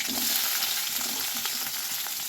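Okra sizzles in hot oil in a pan for a simple okra palya, a loud, continuous frying crackle close by, with light stirring scrapes scattered through it.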